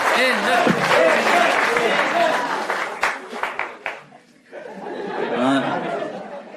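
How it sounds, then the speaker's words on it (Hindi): Audience applause breaks out at an escape-room show event, loud clapping mixed with chatter and laughter, thinning out midway before a host resumes talking over the crowd. "एंजल को भेजा जाए और फिर उसके लिए ताली बजाइए।"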